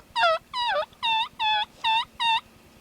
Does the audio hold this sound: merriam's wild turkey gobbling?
yes